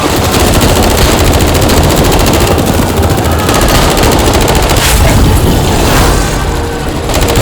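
Sustained, loud machine gun fire with rapid overlapping bursts and booming reports, dense and continuous throughout with no pauses.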